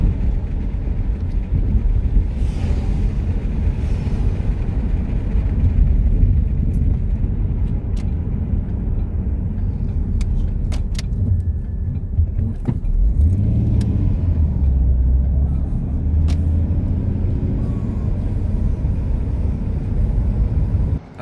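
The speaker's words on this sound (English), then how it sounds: "I just drove the car home." A twin-turbo Ford Mustang drives steadily, its engine and road rumble loud and continuous throughout, with cabin rattles and a brief jingle of keys.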